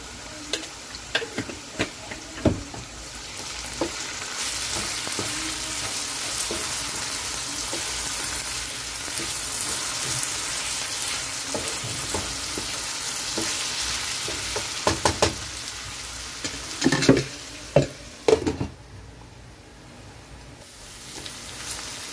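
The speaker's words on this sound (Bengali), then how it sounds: "এভাবে তেলের মাঝে কিছুক্ষণ ভেজে নিলে আমার আলু ভাজিটা হয়ে যাবে।" Potatoes for Bangladeshi alu bhaji fry in oil with a constant close sizzle, broken by repeated scraping and clacking stirs that cluster near the end, with no talk.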